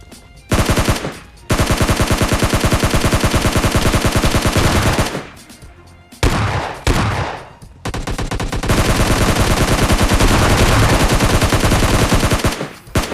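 Rapid automatic gunfire from the battle-royale shooter PUBG rattles in long, loud sustained bursts, broken by a few brief pauses, with no talk over it.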